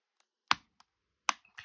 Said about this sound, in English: clicking it back into place.